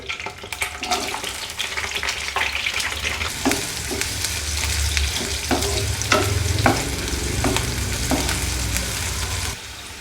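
Onion frying in hot oil for an amaranth stir fry, a loud continuous sizzle broken by repeated clacks and scrapes of a spoon stirring the pan, close up with no talking.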